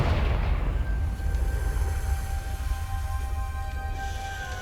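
A Confringo fire spell blasting in Hogwarts Legacy, a loud booming explosion at the start that rolls into a long rumbling decay with a faint ringing tone above it.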